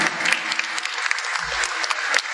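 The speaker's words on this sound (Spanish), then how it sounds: "Fuertes los aplausos para el taller de formación vocal." Applause from a concert audience for a vocal training workshop group, dense steady clapping filling the whole stretch at moderate volume with no voices.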